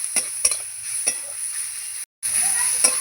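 Onion and garam masala frying in a pan, a steady close sizzle with the scrape of a spatula stirring at intervals.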